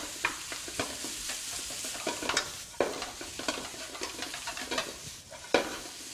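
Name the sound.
stir-frying cold rice for Yangzhou fried rice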